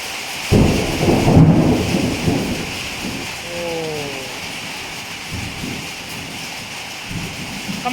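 A loud rumble of thunder rolls in over a steady hiss of rain falling on surfaces during a storm in Vientiane, then fades back to the continuous downpour.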